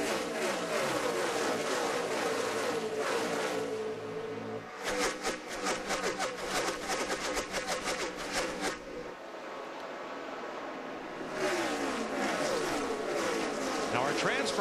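NASCAR race cars roaring past during the 2009 Sprint All-Star Race, loud engine drones swelling and fading in waves as cars zoom by, with brief gaps between passes.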